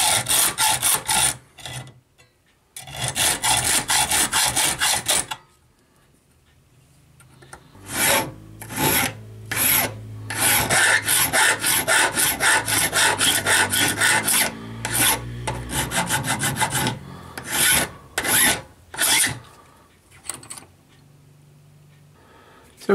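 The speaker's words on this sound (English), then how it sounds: "Now, buy yourself the best hacksaw you can buy." Hand hacksaw cutting a small piece of brass bar: bursts of rasping strokes, several long runs of steady back-and-forth sawing separated by short pauses, close and fairly loud with no talking.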